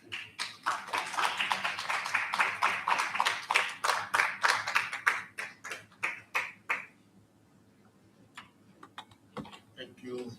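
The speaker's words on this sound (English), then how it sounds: "please give her a very big round of applause" Applause at a South Africa–Colombia forum, a steady run of close, rhythmic claps that fades away after several seconds, followed by a few scattered claps.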